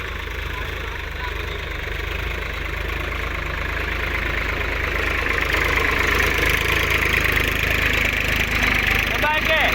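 A new tractor that has got stuck runs at idle, a steady, rumbling engine drone with a low throb that stays constant and grows slightly louder toward the end, with no clear talk over it.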